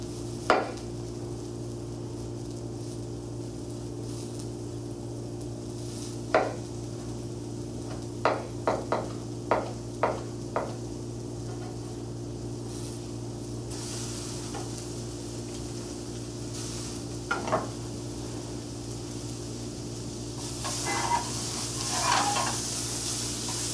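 Tomatoes sizzle softly in a frying pan during a fresh-produce cooking demonstration, with a few light utensil taps from stirring over a steady low hum, and the hiss swelling later on.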